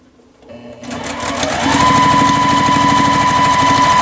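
A sewing machine runs steadily while stitching quilt block pieces, starting up and settling into a fast, even mechanical whir with rhythmic needle chatter, close and loud.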